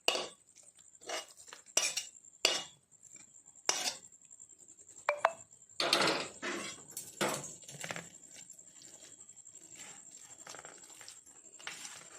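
A metal spoon scraping and tapping bottle gourd halwa out of a pan onto a plate greased with ghee, in irregular clinks and scrapes, some sharp and close, others softer, with a voice speaking now and then.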